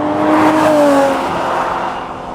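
A Manthey Racing-tuned 400 bhp Porsche 911 996 GT3 Clubsport engine sounds out in a loud, high-pitched whine that sweeps up and then eases off as revs fall, heard from close by with no talking.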